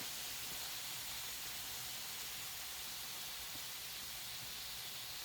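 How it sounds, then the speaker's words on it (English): Constant loud hissing and bubbling as a flameless ration heater brings water to a rolling boil, steady and unbroken throughout with no voices. "Looks to be literally boiling the water."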